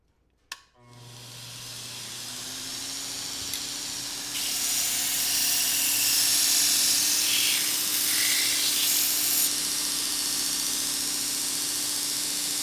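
A knife blade being ground by hand on a grinder: after a brief clunk the motor spins up into a steady whine, then a harsh, bright grinding hiss rises and holds as the steel is worked, with no talking.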